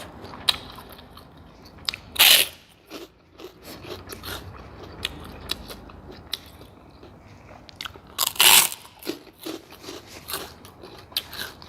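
Home-fried crispy pork rinds crunch under repeated bites as they are eaten with noodle soup. Two loud, sharp bites stand out among steady close chewing crunches, with no talking.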